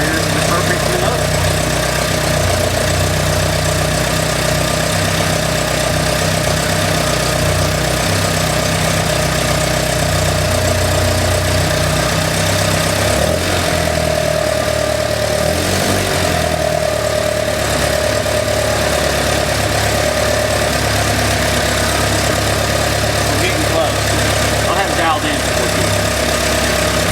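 A carbureted motorcycle engine idles steadily and loudly for the whole stretch, with a slight wobble in its pitch midway and a person talking over it.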